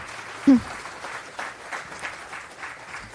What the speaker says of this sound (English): Can I have another round of applause for our sponsors for today?